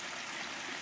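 Spilled water flowing steadily outdoors, a continuous soft trickling wash with no breaks, faint and close, no voices.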